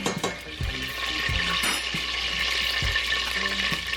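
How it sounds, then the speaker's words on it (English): Butter melts and sizzles in a cooking pot with a steady close crackle, joined by a few soft clinks and scrapes of a utensil against the pot. "So now that this butter is melting"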